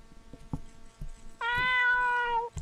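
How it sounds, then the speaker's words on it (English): A cat in the video game Ib gives one clear, drawn-out meow lasting about a second, preceded by faint clicks and soft bumps. "Don't meow at me."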